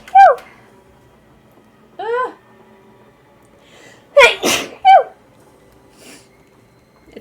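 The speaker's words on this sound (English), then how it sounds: "I have to sneeze." A single sharp, loud sneeze bursts out near the middle, in the Nancy Drew: Legend of the Crystal Skull game, set among short chirping game tones on a rainy-day setting.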